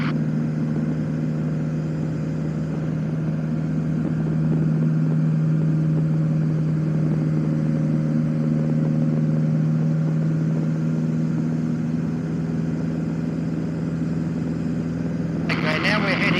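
Light aircraft engine droning steadily in flight as power is raised, a loud constant hum with a strong low tone that persists throughout, ending with a brief burst of noise.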